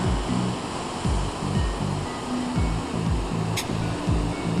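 Ocean surf below a clifftop on Tenerife produces a continuous broadband roar, loud and steady with slight swells, and no voices.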